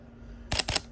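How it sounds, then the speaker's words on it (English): A Sony A7 Mark III (ILCE-7M3) shutter with a damaged, missing top curtain blade fires once, giving two quick, sharp mechanical clicks close up against a quiet background. "when we take a picture, the top shutter blade's missing"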